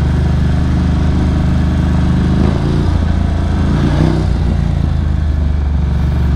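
A Ducati Scrambler or Honda CB650R motorcycle engine running close and loud, a steady throaty rumble that swells briefly in the middle as the throttle is blipped, with no speech.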